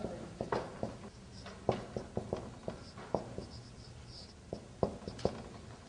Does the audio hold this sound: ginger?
no